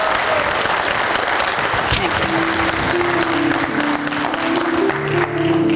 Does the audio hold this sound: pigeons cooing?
no